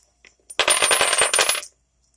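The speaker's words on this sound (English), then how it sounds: "after I drop all my cases." Brass rifle cartridge cases dropped onto a clean reloading table, a dense rapid clatter of many small metallic clinks lasting about a second, close and fairly loud with no talk.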